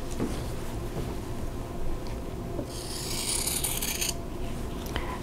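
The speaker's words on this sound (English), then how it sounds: "now I'm going to cut them apart on that drawn line" Scissors cut quilt fabric apart along a drawn line with a soft, close rasp, and one brighter shearing swipe stands out near the end, with no speech.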